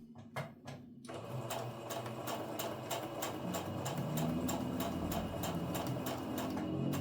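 A sewing machine stitches quilt block pieces for a basic nine-patch quilt, starting with a few short bursts and then running in a steady, fast, close-up mechanical rattle.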